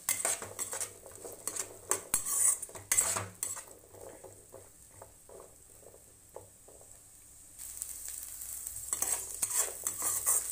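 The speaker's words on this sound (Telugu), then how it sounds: "ఈ చోలే అంతా కూడా కొంచెం వేగాలి." Chole frying and being stirred in a pan, with a steady sizzle under repeated spoon scrapes and clinks against the metal, close and continuous.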